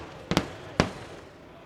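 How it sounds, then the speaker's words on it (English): Two sharp fireworks bangs go off during a college softball game, a quick double crack followed half a second later by a single loud boom, each trailing off in echo against a quiet background. "As he has a timeout for some fireworks."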